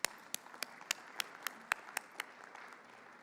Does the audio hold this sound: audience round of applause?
yes